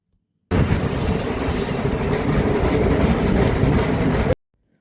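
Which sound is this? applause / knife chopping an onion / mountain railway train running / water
mountain railway train running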